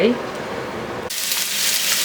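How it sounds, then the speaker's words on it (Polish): Sizzling and crackling of bacon frying in a pan, which jumps suddenly louder and brighter halfway through, as if meat has just hit hot fat. "I teraz smażymy boczek."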